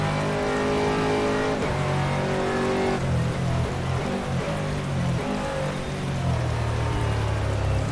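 Rain falls steadily on a wet Sepang track in rFactor while an Aston Martin GT3 race car drones and shifts through its engine notes, the hiss of rainfall spread continuously beneath the car.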